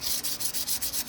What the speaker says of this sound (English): the light grit sandpaper will take care of that.